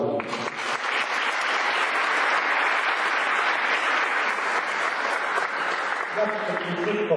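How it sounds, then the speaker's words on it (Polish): A crowd at a Polish high school graduation ceremony claps steadily for several seconds, rising quickly and holding strong before a voice and faint music come in near the end. "Brawa do pani."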